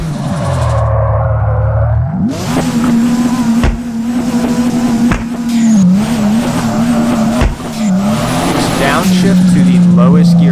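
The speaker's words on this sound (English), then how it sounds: "Can we just enjoy that turbo noise though, honestly? They've done a really good job." Turbocharged drift car engine in the DRIFT21 driving game, roaring loud and steady near the listener with shifting pitch, brief gear-change drops and tire squeal, while a person talks over it.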